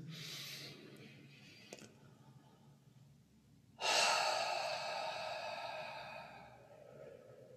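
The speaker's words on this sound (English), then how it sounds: "Breathe in through the nose." Slow, deliberate breaths drawn in through the nose during a guided breathing practice, heard close and quiet: a soft inhale, a pause, then a stronger, longer breath that fades gradually.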